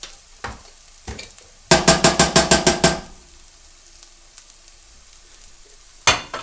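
Tater tots frying in a pan, flipped with tongs: a rapid run of sharp metallic clacks and scrapes over a quiet sizzle, with a few isolated knocks before and after.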